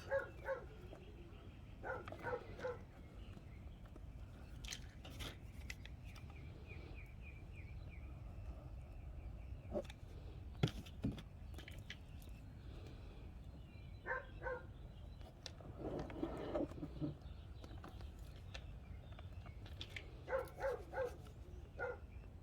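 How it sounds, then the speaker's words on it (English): A pet dog barks outdoors in short, scattered bursts of a few yips and woofs, fairly distant and modest in level over steady background noise, with quieter stretches between the bursts. "Sorry if you hear my dog barking."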